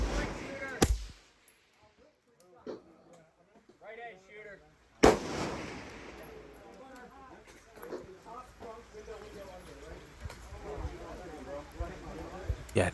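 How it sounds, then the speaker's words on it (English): An IWI semi-automatic rifle fires at targets from a fireman's-ladder barricade during a gas gun match, with three sharp, loud reports spaced several seconds apart, while people talk quietly in between. "we pick 3 rungs and we shoot 5 rounds into each target"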